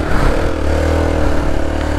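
A vehicle engine revs hard and steadily as its wheels spin and slip on a muddy track, loud and close with a continuous droning roar.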